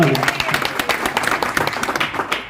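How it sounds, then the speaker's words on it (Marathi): A public meeting crowd claps for Bapu in a dense burst of applause, loud and close, fading near the end. "जरा जोरदार टाळ्या बापूसाठी"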